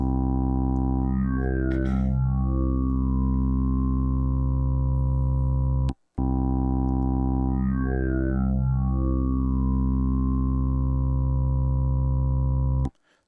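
A Sequential Pro 3 synthesizer plays the mellow Smoothie digital wavetable, a steady buzzy drone rich in harmonics with a shifting formant-like vowel sweep early on. The note stops briefly and then repeats the same way, alone with no talk.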